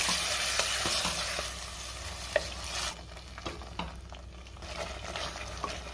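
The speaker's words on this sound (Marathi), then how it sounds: "गॅसची फ्लेम हायवर ठेवून मी मटण 5 मिनिटं चांगलं परतून घेणार आहे" Mutton with a raw onion-tomato masala sautéing on a high flame, a steady sizzle with scraping stirs and occasional sharp clinks of the spoon against the pot.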